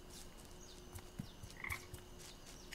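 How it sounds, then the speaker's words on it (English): Soft croaks from a frog in the video game Papo & Yo, a few brief calls over a steady hiss of game ambience, fairly faint and without any speech. "Frog number two."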